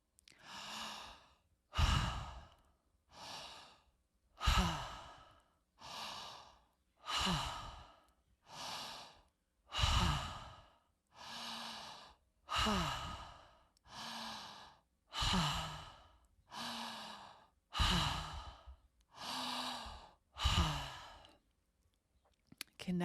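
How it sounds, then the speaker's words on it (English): Connected circular breathing practice: about fifteen slow, evenly spaced breath cycles, each a drawn-in inhale flowing straight into a sighing, voiced exhale, close and fairly quiet with no gaps between breaths. "Connected circular breaths."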